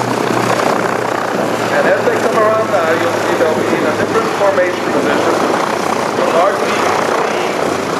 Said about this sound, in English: just take a look on these beautiful Bonanzas